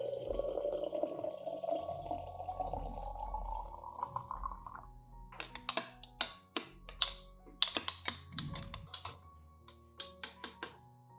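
A rising stream of 500 milliliters of warm water pouring into a container over ingredients for several seconds, followed by scattered drips and small clicks.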